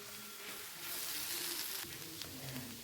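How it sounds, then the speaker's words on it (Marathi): Gram flour and chopped bell pepper are stirred and roasted in a pan, giving a soft, steady sizzle with scraping of the spoon as they are mixed. "आता हे बेसन आपल्याला व्यवस्थित मिक्स करून घ्यायचं आहे।"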